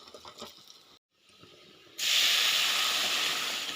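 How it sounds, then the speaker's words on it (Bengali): Boiled lentils poured into a hot pan of fried onions burst into a loud, sustained sizzling hiss after a quiet moment of soft background clatter, with no voices. "এর মধ্যে আমি সিদ্ধ করা ডাইলটা ঢালি দিব।"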